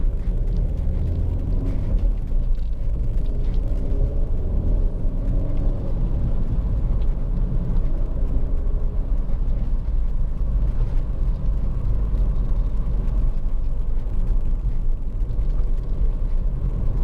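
A 2011 Ford Focus 1.6 TDCi Titanium X five-door diesel idles steadily, a constant low engine rumble with no change in pace and no voices over it.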